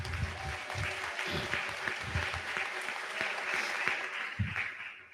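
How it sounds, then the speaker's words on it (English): A crowd at a school graduation ceremony claps steadily and continuously, a dense wash of applause with a few louder individual claps standing out, heard from within the audience. "Give him another hand of applause"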